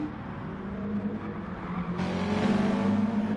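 A Mazda race car's engine droning steadily in a Supercars Group C endurance racing video game at Bathurst, a sustained mid-loud buzz that climbs in pitch and brightens partway through.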